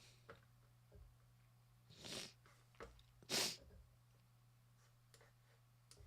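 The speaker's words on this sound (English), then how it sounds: "Oh, I'm going to sneeze." A single quiet sneeze with a sharp burst of breath, followed by a few faint clicks and rustles in a low-humming room.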